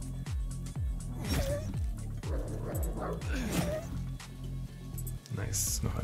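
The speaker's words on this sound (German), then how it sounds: "Hundis!" Several dogs barking and yipping in the video game Dysmantle, with short repeated barks over a steady game background and music.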